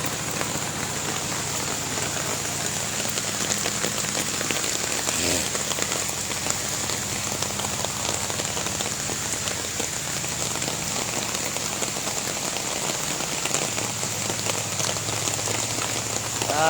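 Heavy morning rain pours onto a road under deep floodwater, a dense, loud, unbroken patter and hiss holding steady for the whole stretch, with a faint low rumble underneath and no voices.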